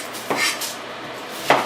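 A kitchen knife slicing the tops and bottoms off onions on a cutting board: two crisp chops about a second apart, close and clear in a quiet room.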